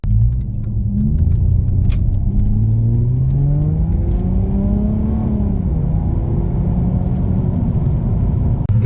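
A Holden engine fitted with Pacemaker 4480 headers, revved to around 3,000-4,000 RPM from a deep, rumbling idle, the pitch rising and falling over a couple of throttle blips, loud and close with no talk.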